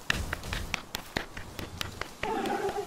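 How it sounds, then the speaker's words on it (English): Hand clapping from a streamer, a series of sharp single claps at irregular intervals, close and fairly loud, followed near the end by a voice. "Isn't my clapping sound different?"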